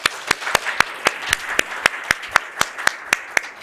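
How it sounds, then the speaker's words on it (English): A single pair of hands claps close by at an event for a speaker, with a steady, evenly spaced rhythm of crisp claps over a faint murmur of the room. "Please give her another warm round of applause."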